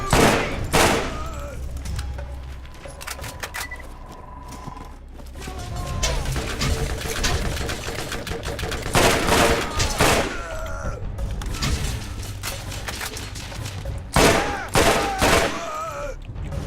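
Repeated gunfire in the video game Borderlands, with bursts of shots and heavy booms landing in clusters over a steady game soundscape.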